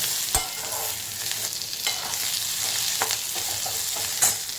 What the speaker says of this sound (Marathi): आपण पाच सहा लसणीचे तुकडे त्याला थोडंसं परतून घ्यायचं